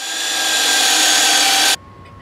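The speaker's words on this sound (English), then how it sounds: "And then I'll finish with that Forstner bit, drilling it all the way into the control cavity." Forstner bit boring into the solid wood body of a bass guitar to reach the control cavity, a loud steady grinding rasp that holds for nearly two seconds, then cuts off abruptly, leaving a faint hum.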